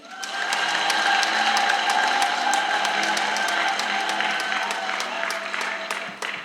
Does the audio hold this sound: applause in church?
yes